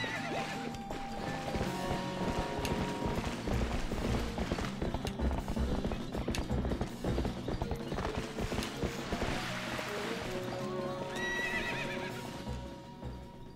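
Horse hooves clip-clopping in the video game The Legend of Zelda: Twilight Princess, a steady rapid gallop of hoofbeats under loud whinnies and neighs that carries on for several seconds.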